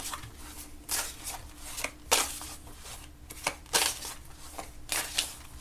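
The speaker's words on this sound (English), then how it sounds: "And I did a lot of shuffling to allow for reversals with this one." Tarot cards shuffled by hand in repeated bursts of crisp riffling and flicking, close and fairly quiet, with short pauses between shuffles.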